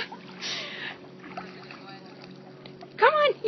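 A St. Bernard puppy swims and paddles in water on its first swim, giving soft sloshing and splashing strokes, with a burst of nearer splashing near the end, while a person talks throughout.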